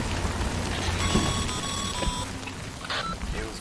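Timefall rain in the video game Death Stranding, a steady broadband hiss of rainfall throughout, with faint electronic beeping tones layered over it in the middle.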